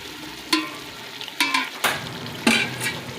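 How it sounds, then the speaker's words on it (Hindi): Chicken biryani frying in about a cup of oil, with a constant close sizzle broken by several sharp scraping stirs of a spoon against the pot. "तो अब हम इसे अच्छे से भूनेंगे।"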